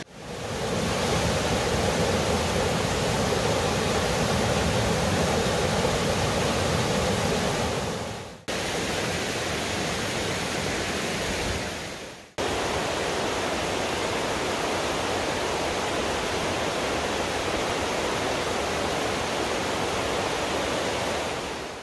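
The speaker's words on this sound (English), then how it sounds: "Here we are at Indian Creek Falls." Indian Creek Falls in the Great Smoky Mountains pours in a steady, loud broadband rush of falling water, constant and close throughout, with two brief dips where the roar cuts out before resuming.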